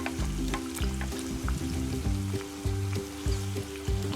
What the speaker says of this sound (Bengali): পুরিগুলো আমি গোল্ডেন ব্রাউন করে ভেজে নিব